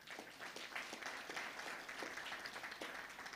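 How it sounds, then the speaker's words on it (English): Audience applause after a long-serving honoree is asked to stand, a steady, moderately quiet wash of clapping with a few sharper individual claps, heard alone throughout. "Let's give her a wonderful round of applause on that."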